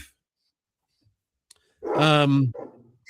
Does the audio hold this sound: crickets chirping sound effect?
no